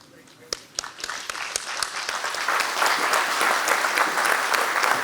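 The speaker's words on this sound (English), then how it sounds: "I hope you could hear the applause" An audience at a medical conference on ablation of ventricular arrhythmias applauds after a talk, opening with a few scattered claps that swell into steady, full applause from the room.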